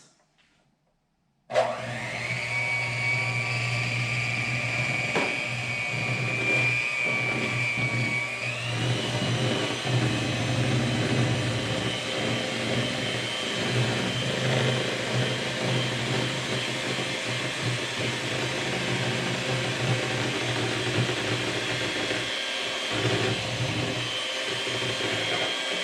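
An electric mixer whirs through funnel cake batter made with milk and eggs, starting abruptly after a brief silence and then running as a continuous steady motor hum for the rest of the stretch, its pitch shifting slightly early on.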